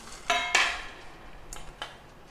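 Spicy gathiya, a fried gram-flour snack, is dropped into a metal vessel, giving two quick clattering bursts followed by a couple of lighter clinks, close and fairly quiet.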